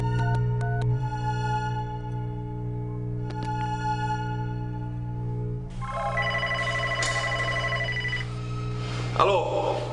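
A telephone rings with a bright electronic tone in the opening seconds, set against a steady low hum and musical background in a film scene; a second burst of ringing tones follows later, with a sharp clatter near the end.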